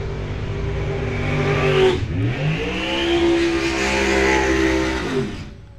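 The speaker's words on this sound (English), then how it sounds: "Stout burnouts a pair there for our 2 drivers" Two drag racing cars at a dragway do burnouts side by side, including a nitrous-injected Mopar, their engines roaring loud and sustained with rising revs, a brief dip near the middle, then holding high before easing off.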